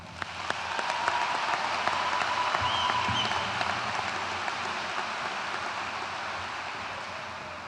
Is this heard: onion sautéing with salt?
no